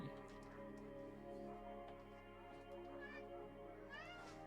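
A cat yowls and meows in drawn-out, wavering cries over a steady background hum, fairly faint and without any talking.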